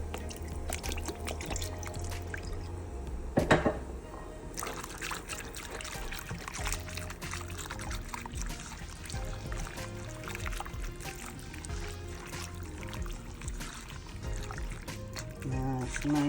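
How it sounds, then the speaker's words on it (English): Soy sauce and Worcestershire sauce are poured into a pot of smothered short ribs, a soft liquid trickle heard under a person talking throughout. "I'm going to add a little soy sauce, some Worcestershire sauce"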